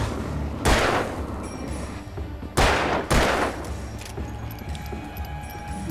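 Revolver shots ring out in the Alan Wake video game: three loud, sharp blasts with long decaying tails, one near the start and two close together later, over a steady low background rumble.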